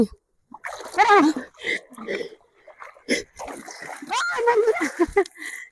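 People bathing in an open outdoor pond splash and slosh in the water at close range, with excited voices talking and laughing over the intermittent splashes.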